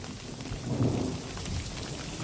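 Thunder rolls through a storm on an exposed mountain ridgeline, a low, continuous rumble that swells near the middle and lingers under steady rain-like noise, with no voices.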